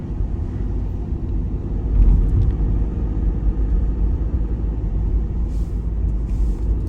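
Car interior at night on Guernsey roads, with a steady low road and engine rumble throughout, a brief louder swell near two seconds, and no talking.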